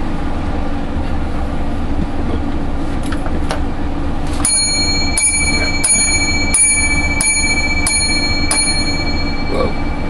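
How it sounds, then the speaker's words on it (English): Bell struck seven times in an even, ringing sequence, each strike bright and sustained, over a steady low rumble of background noise. "Seven bells for the second half"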